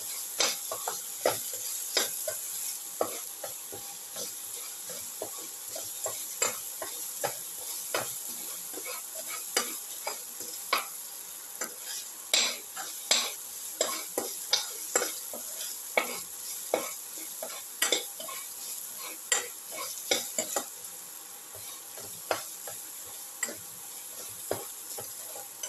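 An egg, tomato and ginger mixture sautés in a pan with a steady, bright sizzle, broken by frequent scraping and tapping strokes of a spatula as it is stirred throughout, with no voices.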